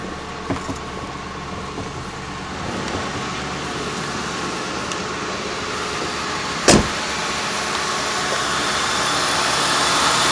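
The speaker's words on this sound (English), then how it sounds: "Engine's running nice and smooth." A 1995 Ford Crown Victoria engine idles smoothly with a steady broadband hum, rear end raised, a single sharp knock mid-way and a gradually swelling drone toward the end.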